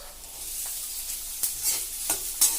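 Onions drop into hot oil with garlic and mustard seeds, a close bright sizzle punctuated by several sharp stirring scrapes and crackles, no speech.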